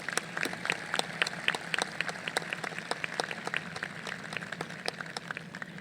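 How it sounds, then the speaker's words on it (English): Audience applause at a Canyon High School Class of 2020 graduation ceremony, a steady round of clapping from a crowd that holds at an even level throughout, with no talking. "please join me in thanking these wonderful educators with a round of applause"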